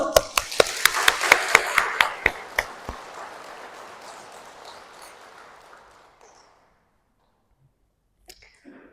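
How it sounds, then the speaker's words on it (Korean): Catholic church congregation in Seoul clapping in a room with strong reverb, a brief run of about a dozen sharp claps in quick succession, then a long echoing decay into near silence. "깨어날 사람 박수!"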